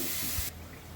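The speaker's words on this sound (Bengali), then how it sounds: "মশলা কষানো হয়ে গেছে জল দিয়ে দিচ্ছি" Water is poured into a pan of fried spices for a masala rui fish curry, giving a close, brief hissing rush that cuts off after half a second.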